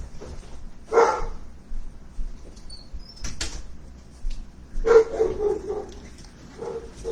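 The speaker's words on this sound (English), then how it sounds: "Rather everyone be able to hear me than hear the dog over me." A dog indoors gives a few separate barks and yips, one sharp bark early, a brief knock or bang midway, then a cluster of shorter barks, moderately loud against a quiet room.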